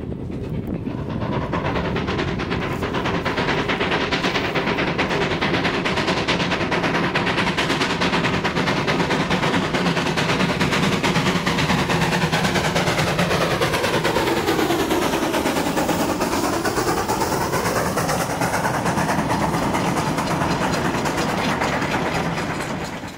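Denver and Rio Grande steam locomotive 168 labors along pulling a train with rapid, steady chuffing and heavy rumbling, loud and sustained throughout, the rhythm shifting as it rounds a curve.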